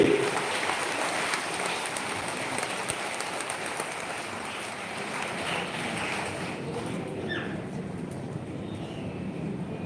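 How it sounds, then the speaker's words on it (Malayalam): A crowd applauding at a live temple music event, a broad sustained roar of clapping that stays steady for several seconds before thinning slightly, with some background voices. "ഒരു ഗംഭീര കൈയടി"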